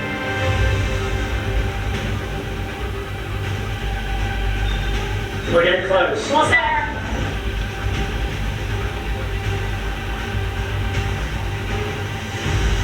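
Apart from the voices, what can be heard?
train passing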